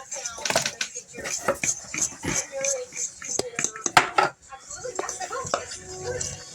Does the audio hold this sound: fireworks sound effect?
no